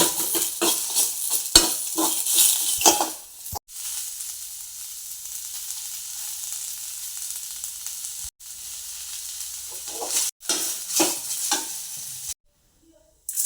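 Chili, onion and garlic fry together in a pan for a masala, a continuous close sizzle broken by repeated scraping stirs of a utensil against the pan, with a short silent gap near the end.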